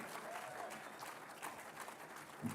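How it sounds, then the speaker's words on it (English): An audience at a school performance event applauds dance students, with steady, dense clapping from a sizable crowd that continues throughout, a few louder claps near the end. "Please put your hands together."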